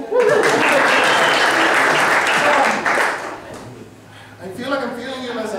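An improv festival audience bursts into loud clapping that holds for about three seconds, then fades as voices and laughter take over near the end.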